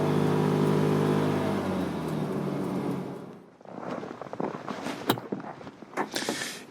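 Inside the cab of a 2019 Can-Am Defender UTV on a farm, a loud engine drone rises and falls, then gives way to rattling knocks and jolts as it drives.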